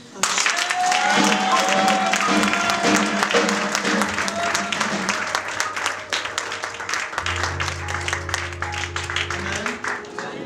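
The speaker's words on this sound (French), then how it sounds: "On acclame Jésus" A church congregation at a French-speaking evangelical Sunday service applauds, steady clapping from a crowd mixed with music, sung or shouted voices, and low organ-like tones.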